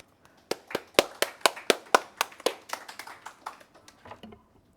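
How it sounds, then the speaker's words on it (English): Applause from a conference audience after a talk, a burst of sharp, fairly close hand claps in quick succession that builds and then thins out and fades over a few seconds, with no voices. "So great round of applause for Aditi."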